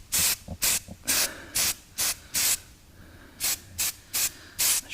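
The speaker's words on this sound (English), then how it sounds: "with light coats, give the whole arm a light dusting of edge primer" Aerosol spray can dusting edge primer onto a Toyota Corolla Verso wiper arm, heard up close in about ten short hissing bursts with brief quiet gaps between them.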